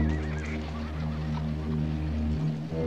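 A black gelding saddle horse neighs in a brief wavering whinny over a steady low hum, the call fairly close and moderately loud.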